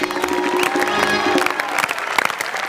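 Loud applause with scattered cheers from a studio audience at a Marathi comedy show, sustained clapping filling the whole stretch with a dense, steady wash.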